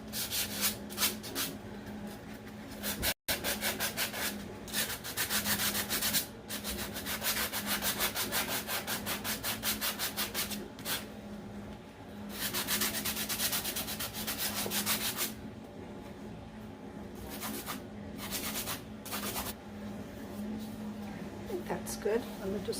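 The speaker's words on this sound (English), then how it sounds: "Just some light distressing on that." Light distressing on a thrifted piece of furniture, a steady scraping rub of sanding against wood that runs almost continuously with short pauses, loud and close, with a voice talking over parts of it.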